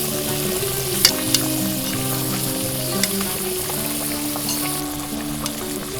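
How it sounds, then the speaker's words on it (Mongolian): Meat frying in a pan for Mongolian BBQ gives a steady, loud, close sizzle and crackle with a few sharp pops, with no voices. "Тасанд шарж өгнө."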